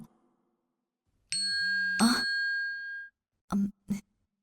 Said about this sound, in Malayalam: അമ്മയുടെ മീനാക്ഷിയുടെ മെസ്സേജ് വന്നു.